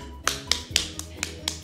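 At a preschool homeschooling worksheet session, someone claps for a child who has just finished a task. Six sharp, evenly spaced claps sound close and crisp over a low steady hum, with no talk over them.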